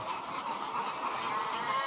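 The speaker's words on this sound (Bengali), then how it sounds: "ডিম পাড়া লেয়ার মুরগির খামার থেকেই" A dense, steady din of many laying hens in a large layer poultry house, continuous clucking and chatter blending into one noisy wash.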